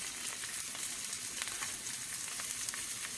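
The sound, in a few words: pork chops sizzling in a cast iron skillet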